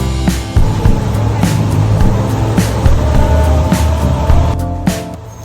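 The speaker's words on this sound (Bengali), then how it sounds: "এরপর কিছুক্ষণ এখানে দাঁড়ানোর পর আবার স্পিড বোটটা চলতে শুরু করেছে।" Speedboat engine pulling away on open sea near Phi Phi Island, Thailand, a loud steady motor drone with rushing water and wind noise throughout, close up and continuous with no talking.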